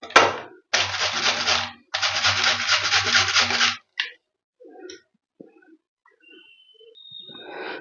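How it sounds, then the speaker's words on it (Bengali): Pumpkin being grated by hand on a grater for potato-pumpkin fritters, heard as two long bursts of steady raspy scraping, each a couple of seconds long, close and fairly loud, followed by a few faint scattered knocks. "কুমড়ো কিছুটা ঘষে নিয়ে নিয়েছি"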